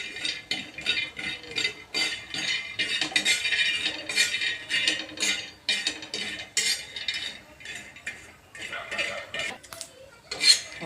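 Peanuts stirred while roasting in a pan, a spoon scraping and clinking against the metal in an uneven, busy rhythm, close and fairly loud, with no voice over it.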